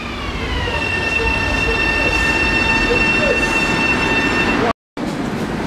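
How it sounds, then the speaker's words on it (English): A Long Island Rail Road train rolls past loudly on the Main Line, with a rumbling roar and high wheel squeal that hold steady before a brief dropout near the end. "next stop on this train is Hillside and then Jamaica"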